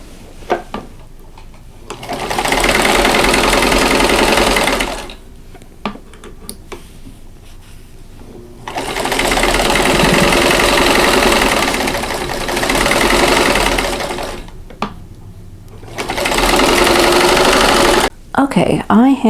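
Sewing machine stitching quilt block sections together, three separate bursts of fast, steady needle whirring with short pauses of handling between, close and loud, with a voice speaking briefly.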